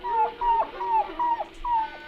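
A cartoon dog from a 1981 Hanna-Barbera show whimpers in five short, evenly spaced, falling whines, loud and close, with no talk.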